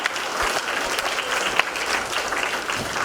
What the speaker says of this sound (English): just give yourself a round of applause for hanging in there all day